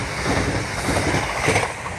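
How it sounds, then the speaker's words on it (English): A Cross Country passenger train speeds through Northallerton station at night, a loud, dense, continuous rush of wheel and rail roar at close range with no gaps or voices. "Cross country speeding past Northallerton."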